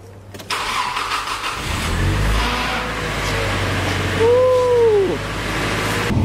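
A Nissan S15 Silvia cranks briefly and fires up, settling into a loud steady idle, then revs up and drops back, with a faint squeal near the end, heard up close.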